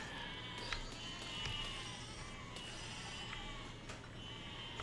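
Sheep bleating in the video game Besiege, several short nasal bleats scattered over a low steady hum, fairly quiet, with a few sharp clicks between them.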